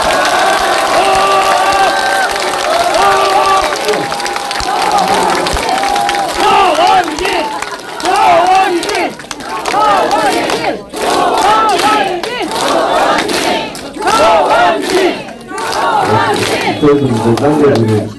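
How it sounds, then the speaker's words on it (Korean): Crowd at a political book talk event breaking into loud cheering and shouting with applause, sustained and energetic with repeated collective yells over many seconds. "우리와 같은 박수 부탁드립니다"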